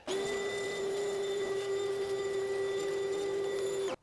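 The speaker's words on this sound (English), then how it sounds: "I'm gonna vacuum all this loose debris" A shop vacuum cleaner sucks up loose debris around the fuel injectors of a 2005-2007 Ford Freestar during lower intake manifold gasket work, giving a steady, loud motor whine that runs unbroken for about four seconds and then cuts off.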